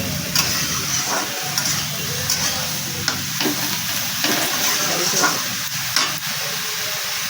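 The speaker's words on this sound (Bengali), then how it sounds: "দিয়ে ভালো করে বেগুনগুলো ভাজা হবে" Eggplant pieces fry with onions in a hot pan, a loud steady sizzle broken by repeated scraping strokes of a spatula stirring, close and without speech.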